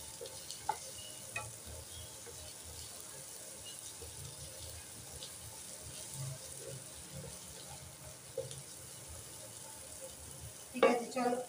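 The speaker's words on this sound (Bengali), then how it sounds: "মশলাগুলো একটু ভাজা ভাজা হবে।" Chopped onion, garlic, ginger, tomato and green chilli masala frying in a kadai, a faint, steady low sizzle with soft stirring, ending in a brief louder clatter.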